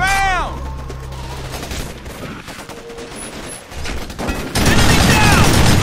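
Enemy gunfire in the shooter game Raven Squad, bursts of rapid automatic fire and crackling shots that run continuously and swell loudly near the end, mixed with game effects and brief voice lines.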